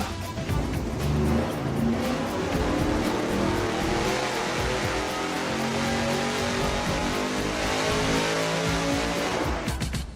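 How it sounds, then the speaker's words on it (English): A V8 engine with a Brule straight-through muffler is held at full revs on a dyno, producing a loud, steady, unbroken roar that carries on for the whole stretch with no talking. "Now the very last of our straight through mufflers, the Brule."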